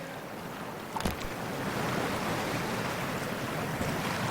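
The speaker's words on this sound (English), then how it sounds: "Whew, freezing ass water, here I come." Cold water sloshing as a character wades in, in the Cyberpunk 2077 Badlands at Laguna Bend: a brief splash near the start, then steady rushing wash and surf-like noise throughout.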